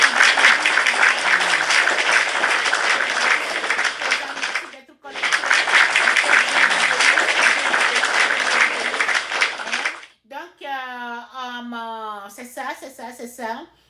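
Applause from an audience, dense clapping that stops briefly near five seconds, resumes until about ten seconds, then gives way to a speaking voice.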